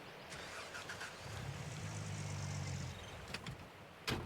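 A pickup truck in the mining game Gold Mining Simulator turns over and fires, with a low engine rumble that swells for a couple of seconds and then fades. A few faint knocks follow.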